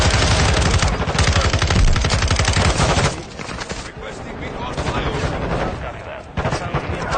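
Rapid automatic gunfire in Call of Duty Warzone 2, a dense loud burst of shots for about three seconds, then scattered firing and explosions continuing at a lower level with more shooting near the end.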